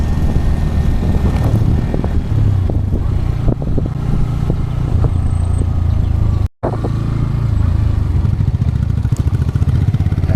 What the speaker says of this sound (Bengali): তিনটে বাইকে একসাথেই রয়েছে আমাদের।